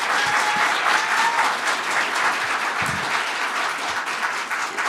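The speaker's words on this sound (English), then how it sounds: "if you could just hold your applause to the end" Steady applause from a meeting-room audience at a county commissioners' meeting, dense clapping holding at a fairly even, loud level throughout with a few scattered whoops.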